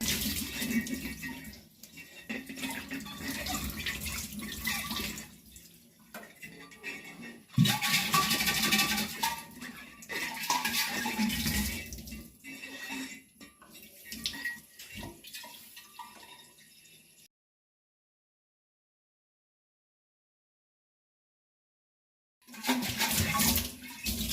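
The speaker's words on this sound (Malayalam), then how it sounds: "ഞാൻ ഇപ്പോൾ ചൂടുവെള്ളമാണ് പിടിക്കുന്ന വൈപ്പിന്ന് അതിൽ അങ്ങ് ചുമ്മാ അങ്ങ് വാഷ് ചെയ്തെടുക്കാം" Hot water runs steadily from a kitchen tap while items are washed beneath it, a loud continuous rush with splashing that stops abruptly partway through, then resumes near the end.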